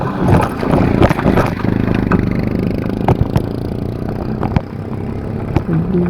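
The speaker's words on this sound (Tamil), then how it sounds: "வண்டி வருது." A motor vehicle approaches along a road, with a loud, close engine rumble and broadband road noise that stays strong throughout and eases slightly toward the end.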